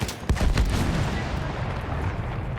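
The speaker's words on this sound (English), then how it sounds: "all you hear is the blast of artillery" Artillery booms in a Battlefield 1 battle: a heavy blast lands early, its rumble rolling and decaying into a thick, noisy din of distant combat that continues without voices.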